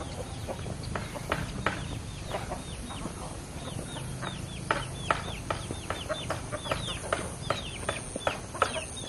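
Chickens clucking and chattering outside a village house beside a road, a busy flock of repeated short clucks and squawks close by, growing denser toward the end, with no talking.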